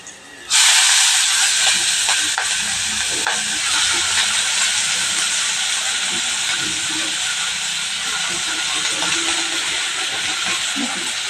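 Fresh spinach leaves dropped into a hot pan for a vegetable dish burst into a loud, sudden steamy hiss that holds steady and strong for several seconds, close and without talk.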